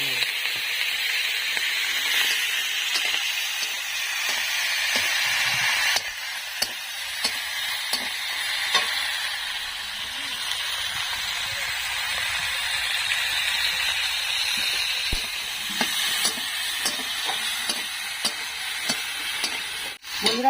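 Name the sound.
shrimp frying in hot oil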